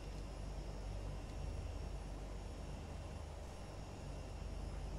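A light aircraft's engine idles steadily before taxiing for an humanitarian flight at Toulouse Blagnac airport, a continuous droning hum with a constant low rumble and no break.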